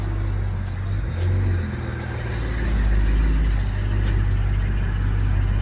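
A Ford Explorer 3.5L EcoBoost engine idles and rumbles steadily, then revs gently as the vehicle creeps forward onto a lift, loud and close with no talking.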